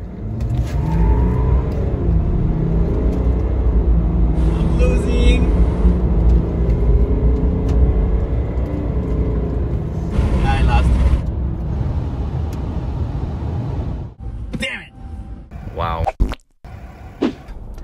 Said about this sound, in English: You have to do a drag race in diesel pickup trucks, shouldn't you?